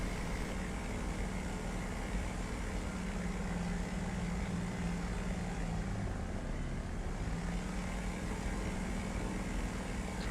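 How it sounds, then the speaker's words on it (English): A French propeller aircraft in a flight simulator game drones steadily with a constant, even engine hum throughout, fairly faint and with no talking. "So, Estone, this French job is your favourite prop aircraft, is it?"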